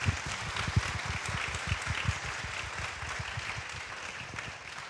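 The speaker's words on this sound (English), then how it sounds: "can we give them a round of applause" Applause from a seated audience at a beauty and self-care panel event, a steady spread of clapping across the room that carries on at a fairly even, moderate level without voices over it.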